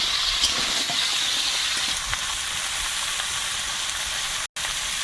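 Vegetables, including young Malabar spinach, hit a pan of oil fried with green chilli and ginger-garlic paste, giving a continuous close hiss and sizzle with faint stirring and a brief dropout near the end.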